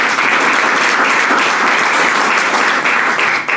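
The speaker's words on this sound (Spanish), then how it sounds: "Regálele un aplauso, Señor." A congregation at a church service applauds together, a dense, loud, continuous wash of clapping that holds steady for a few seconds.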